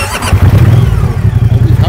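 A Moto Guzzi Stelvio motorcycle engine fires up and settles into a loud, close, throbbing idle with a steady rhythmic low pulse.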